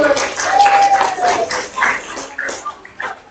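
An audience applauds after a preschool operetta at a Sundanese arts and culture performance, with a lively patter of clapping that trails off toward the end, mixed with voices.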